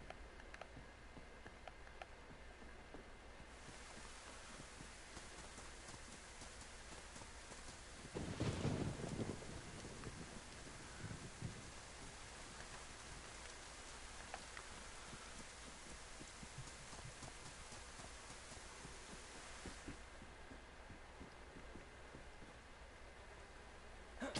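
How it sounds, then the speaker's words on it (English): Faint steady rain hiss in the video game DayZ with a low rumble of thunder rolling through partway, no voices. "Maybe it was the rain."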